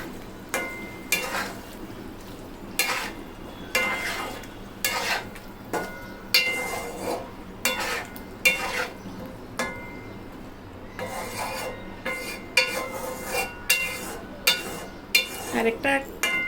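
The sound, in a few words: stirring and mixing chicken tehari in a pot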